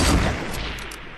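Game gunfire in Fortnite Battle Royale squads, a dense burst of loud shots at the start that rolls into a steady, fading rattle of weapon fire through the rest of the moment.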